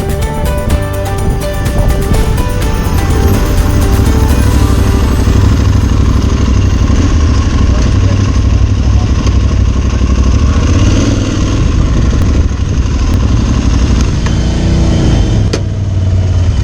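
Aprilia Tuareg 660 motorcycle engine rumbling loudly and close on a ride into a cafe, with steady revs that ease off as the bike slows.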